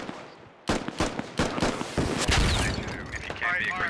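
Heavy gunfire and rocket blasts in the military shooter Squad, a barrage of sharp broadband shots and booms arriving in rapid bursts near and far, with a faint whistling tail toward the end.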